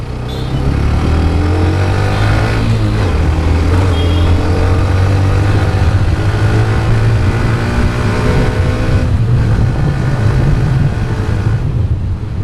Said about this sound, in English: what is impressive about this motorcycle is how beautifully this engine revs